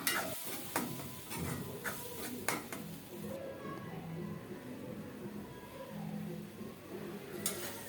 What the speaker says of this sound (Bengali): এখন কুচানো ধনে পাতা মিশাবো